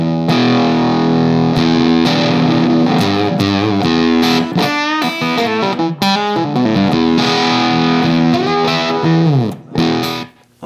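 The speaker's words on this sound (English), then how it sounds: "So first thing, let's try that soul fuzz." Electric guitar through a soul fuzz pedal in a pedal demo, playing thick, sustained distorted chords and riffs loudly and continuously, with no talking.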